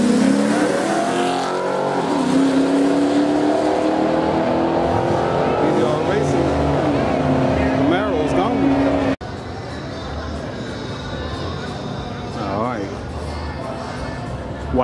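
A white Dodge Charger R/T and a red SRT-4 Neon race each other at a drag strip, engines loud and continuous with revving and passing roars, while a commentator talks over the noise throughout.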